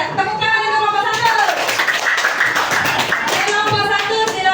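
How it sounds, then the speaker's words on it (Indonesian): A burst of many hands clapping together, a group of children in a classroom applauding loudly and unevenly, with children's voices mixed in throughout. "Tepuk tangan untuk kelompok 1."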